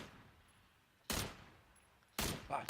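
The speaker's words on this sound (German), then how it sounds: "Dort wird beschossen. Zwei Leute." Two sharp gunshots crack in a video game shootout, spaced about a second apart against a quiet background.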